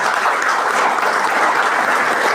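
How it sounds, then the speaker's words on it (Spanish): Steady applause from a church congregation during a sermon, a dense wash of clapping that holds at even loudness throughout with no voices rising above it. "Cuando dicen, amén, den un aplauso"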